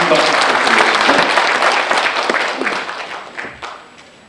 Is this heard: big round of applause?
yes